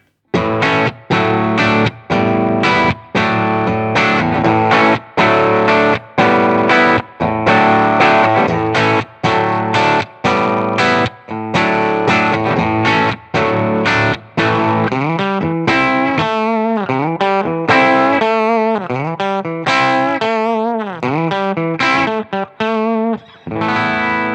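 Electric guitar through Boss overdrive pedals plays loud strummed chords, then shifts into bending, wavering lead notes, all with a smooth, gritty drive and no voices.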